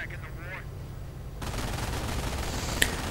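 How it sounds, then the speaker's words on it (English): Distant, dense rattle of MG42 machine gun fire and other battle noise swell in a WWII strategy game, forming a continuous crackling wash beneath a brief voice at the start. "they're getting suppressed by the MG42"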